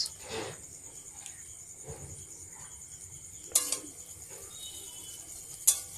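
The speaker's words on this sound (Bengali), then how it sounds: "ভালো করে নাড়তে হবে সস দিয়ে নাড়া হয়ে এসছে" Chowmein and sauce stirred in a pan, with a few soft scrapes and two sharp metallic clinks of the utensil against the pan over a quiet background, no voices.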